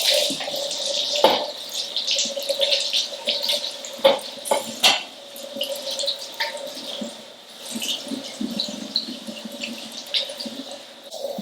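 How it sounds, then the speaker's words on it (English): Sterling silver is rinsed under a running tap, with water splashing and trickling irregularly and fairly softly nearby, punctuated by a few sharper splashes. "we're going to rinse this off"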